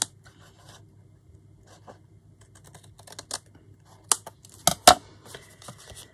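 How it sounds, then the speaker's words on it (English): Scissors cut along a specimen card made for holding embossed insect mounts, giving sparse, crisp snips and rustles that cluster into a few sharp, close clicks toward the end against a quiet background. "So I just run your scissors up along there."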